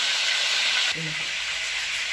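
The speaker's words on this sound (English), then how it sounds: "And I'm going to let this fry." Steady, loud sizzling of fish frying in hot oil for Jamaican escovitch fish, a bright crackling hiss that dips slightly partway through, with no talking.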